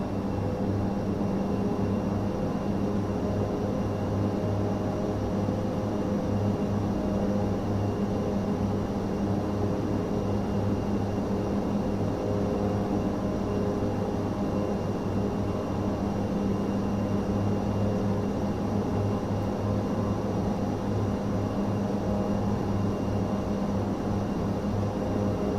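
Twin turboprop engines of an ATR 72-600 in Microsoft Flight Simulator 2024 produce a steady, continuous drone with a tonal hum throughout, with no talk over it.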